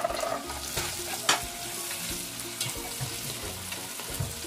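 Garlic and tomatoes fry in a pan for beef menudo, a close, crackling sizzle with stirring scrapes and one sharper clatter partway through.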